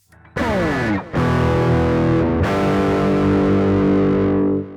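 Distorted electric guitar chords through a Zoom GCE-3 with cabinet simulation off ring out bright and buzzy, with a harsh, unfiltered fizz and long sustain, playing alone.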